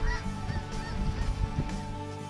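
Snow geese honk as a flock flies over during a spring hunt in Illinois, many overlapping calls layered over wind noise, fairly loud and continuous with no talking.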